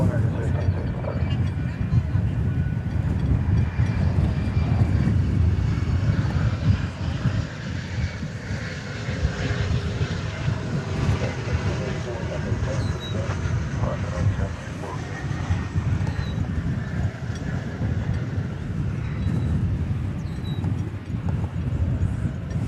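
At DFW Airport, a Volaris Airbus A321neo bound for Guadalajara takes off with a steady, broad jet-engine roar that stays strong throughout, under a fluttery wind-buffeted rumble.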